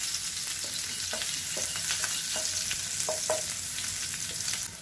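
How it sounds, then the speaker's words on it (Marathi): Onion, bay leaf and a halved red chilli sizzle steadily in hot oil on a low flame for chicken gravy, a continuous close frying hiss broken by a few light stirring scrapes, with no voices. "तेलामध्ये मी आता कांदा घालते, तमालपत्र घातले आणि एक लाल मिरची दोन तुकडे करून घातलेली आहे"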